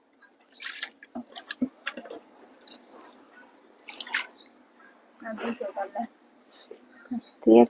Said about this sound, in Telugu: ఇది ఈ కుండ కడుక్కుందాం.